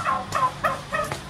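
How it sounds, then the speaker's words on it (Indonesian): Turkey gobbling beside a campsite in Teluk Intan, Malaysia, with three loud rattling gobble bursts in quick succession and no talk. "Ayam Belanda."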